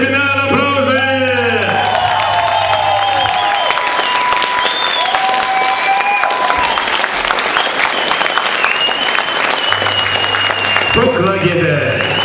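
Loud, sustained applause and cheering from an audience at a TVC 2016 presentation of a group from Puhaceni, continuous dense clapping with whoops over music-like tones throughout.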